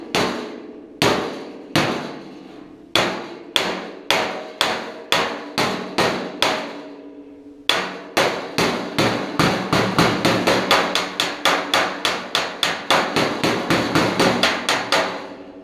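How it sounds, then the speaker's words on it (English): Small rounded hammer tapping out a dent in the fender of a 1966 Ford Galaxie 500 convertible, sharp metallic knocks in short bursts, then a long, faster run of steady close taps, loud with no talking. "I got my little rounded hammer to get right on the dent."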